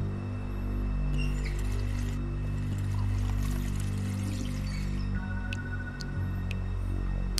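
Water pours and splashes steadily in the video game The Wolf Among Us, a continuous gushing stream over a low background hum, with a few brief clicks toward the end.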